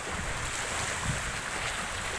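Seaside waves along the bay at Mall of Asia, a steady, fairly quiet wash of surf mixed with wind rumbling against the microphone, with no voices.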